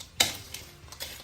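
Pork skin for chicharon stir-fries in a pan, giving soft sizzling broken by a few sharp scraping and clinking strokes of a utensil. The sound is close and moderately quiet.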